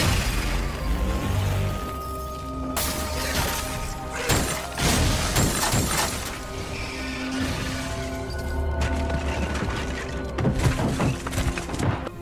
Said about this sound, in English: all of the White Walkers shatter as well